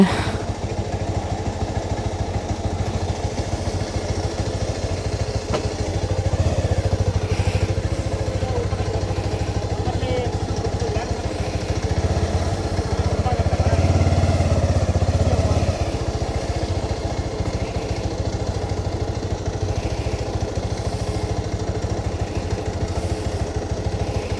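Motorcycle engine idling steadily while parked on a road trip from Gokarna toward Honnavara; a continuous low rumble runs throughout, swelling slightly mid-clip, with faint voices in the background.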